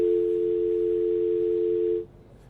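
A telephone dial tone follows a disconnected call, a steady, clear single-pitch hum holding for about two seconds before cutting off into faint line hiss.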